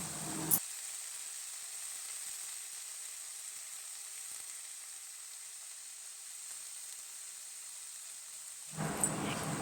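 Red amaranth greens hit hot mustard oil tempered with fenugreek and dried red chilli in a wok, giving a loud, steady, continuous sizzle that holds for several seconds with no talking.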